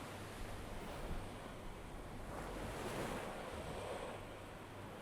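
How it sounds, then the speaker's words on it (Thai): Ocean waves surge and wash onto shore in a steady, continuous roar, with wind rushing across the microphone and no voices present. "อันนี้มันไม่ได้เป็นดนตรีนี่ใช่ป่ะเสียงคลื่น"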